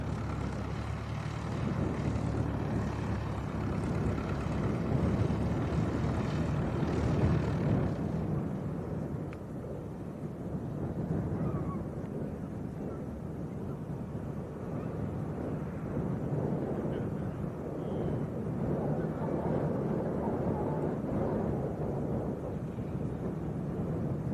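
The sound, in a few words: light aircraft taxiing onto the runway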